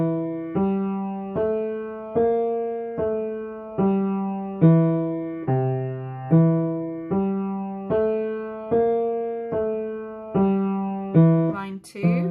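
Piano plays a walking bass line with the left hand, one steady plucked-sounding note per beat in an even stepping rhythm, clear and alone for about a dozen notes.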